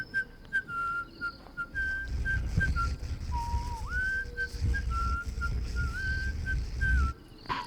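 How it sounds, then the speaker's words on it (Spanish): A single wavering whistle drifts slowly up and down in pitch over a low rumbling background, faint and eerie, the effect of a horror story's nightly whistling. "escuchamos un silbido que comenzaba lento"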